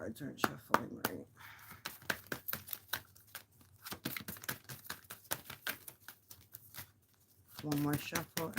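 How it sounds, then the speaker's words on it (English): Close-up card shuffling, quick rapid flicks and riffles in bursts, with a voice speaking briefly near the end. "I don't know why my cards aren't shuffling right."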